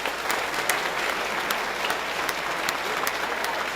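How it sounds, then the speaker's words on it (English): Sustained applause from a ceremony audience at a Rochester, NY museum ribbon cutting, dense steady clapping throughout with a few louder claps standing out. "Let's give her another round of applause"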